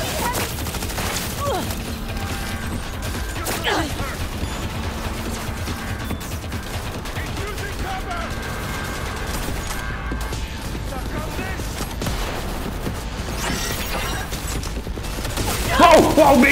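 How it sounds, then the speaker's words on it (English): Gunfire in Cyberpunk 2077 runs as a steady wash of combat noise with scattered shots and mechanical clatter. Speech and game sounds sit over it throughout, and it swells near the end. "I guess we gotta shoot our way through, I guess. You shoot everybody"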